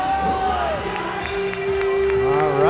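A crowd cheers and shouts steadily in a rink at a high school varsity ice hockey game, the roar continuous and loud throughout, with sustained whoops and tones riding over it.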